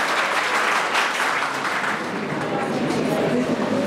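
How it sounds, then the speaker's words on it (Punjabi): A college audience applauds a guest lecturer, Professor Baldev Muttha, with steady, dense clapping from many hands that fills the hall at an even level for the whole stretch. "ਆਪਾਂ ਇੱਕ ਵਾਰੀ ਫਿਰ ਤਾੜੀਆਂ ਦੇ ਨਾਲ ਇਹਨਾਂ ਦਾ ਸਵਾਗਤ ਕਰੀਏ"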